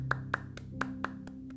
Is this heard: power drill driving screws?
no